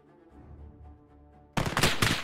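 Automatic gunfire from a heavy machine gun in a World War II hedgerow combat video game, a sudden loud, dense burst erupting after a stretch of quieter rumbling background and continuing for under a second.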